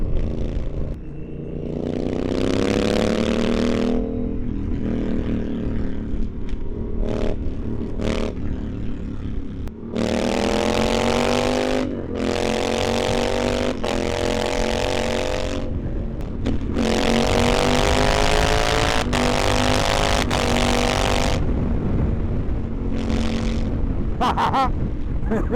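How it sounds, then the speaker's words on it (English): A Honda Africa Twin's 270-degree parallel twin with an Akrapovic racing exhaust roars through repeated throttle blips and revs, rising and falling loudly in bursts, close by, over steady road rumble. "the sound of this exhaust is amazing"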